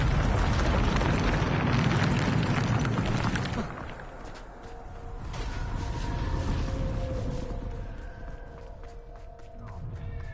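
A Bombarda spell blast in Hogwarts Legacy on PS5 erupts as a loud, dense explosion over the first few seconds, then drops into a rumbling, crackling aftermath with scattered debris and lingering magical tones.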